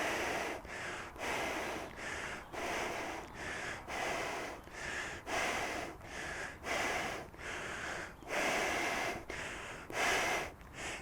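Hard, rhythmic breathing through an Under Armour sports mask, a steady run of about a dozen forceful close-up breaths with short gaps between them and no talking.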